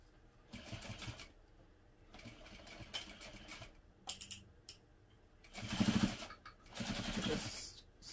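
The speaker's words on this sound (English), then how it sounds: "Sew that vinyl accent stripe in place." A home sewing machine stitches a vinyl accent stripe in place on a 3/8 inch seam allowance, in several short bursts of whirring separated by pauses, growing louder and longer toward the end.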